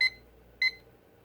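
A timer gives two short, clear electronic beeps about half a second apart as it is started, near and alone against a quiet room hum.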